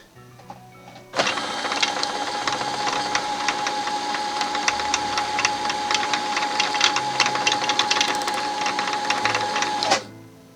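A Brother CS-6000i sewing machine winds a bobbin with a steady, fast motor whir and rapid ticking that starts abruptly, runs for about nine seconds close up, then stops.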